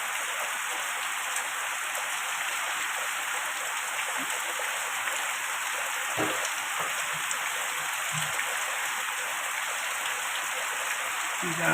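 Heavy monsoon rain pours down in Sylhet as a dense, unbroken hiss that fills the whole clip, with a few faint, brief sounds beneath the steady downpour.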